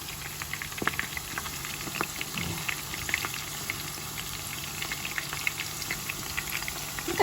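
Wild flowers coated in batter crackle and bubble steadily in hot deep-frying oil, a dense continuous sizzle with scattered pops, fairly close and even throughout.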